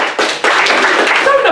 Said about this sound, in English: Don't applaud me!